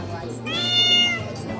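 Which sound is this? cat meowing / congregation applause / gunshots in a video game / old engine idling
cat meowing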